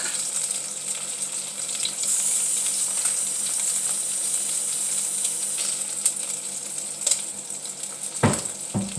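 A cup of water poured into a hot roasting pan holding caramelized chicken drippings hisses in a steady, close sizzle that lasts throughout, with a few clinks near the end.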